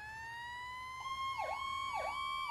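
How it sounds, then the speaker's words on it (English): A fire truck siren from the Chicago Fire video game wails with a steady tone, then sweeps through repeated yelps, loud and close, sounding alone without talk. "Hit that siren on and let's give her."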